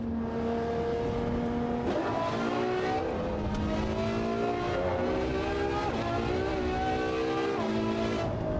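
A racing car engine in the driving sim Assetto Corsa Evo screams steadily at high revs, rising and dropping through gear shifts and corners, loud and continuous, with no talk over it.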